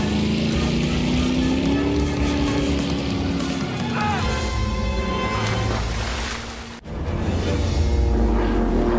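Steady droning engine of a boat in a film scene, a continuous loud rumble with rushing water, while voices shout over it and a brief dip near the end.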